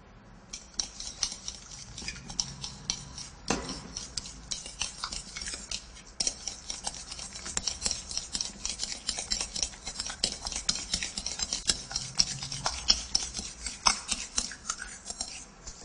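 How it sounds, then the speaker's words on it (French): A fork scrapes and stirs garlic into eggplant flesh in a bowl, with olive oil worked in. The clicks and scratches against the bowl come in a steady, busy rhythm, close and fairly quiet, with no talking. "l'ail dans le saladier avec la chair d'aubergine et vous mélangez à la fourchette"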